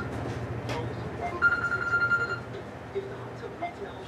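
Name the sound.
telephone ringing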